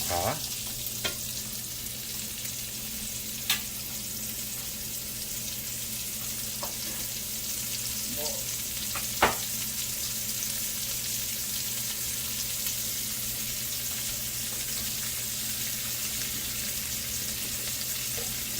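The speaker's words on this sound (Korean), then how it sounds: "프라이팬을 불에 달군 후에 참기름을 둘르고" Steady, even sizzling of onions frying in sesame oil in a pan, continuous and fairly quiet, with a few faint clicks and knocks.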